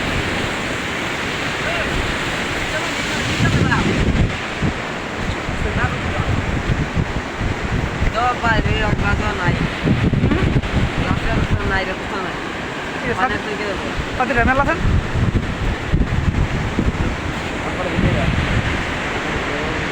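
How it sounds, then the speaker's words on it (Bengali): A swollen river at high tide roars continuously with gusting wind buffeting the microphone, a steady loud wash of water close by with faint voices in the background. "এই দেখেন কত পানি নদীতে।"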